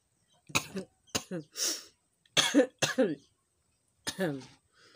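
Several short, harsh coughs and throat-clearing bursts from a person with a cough, spaced irregularly and close to the mic, with near-silent gaps in between and a quiet home kitchen around them.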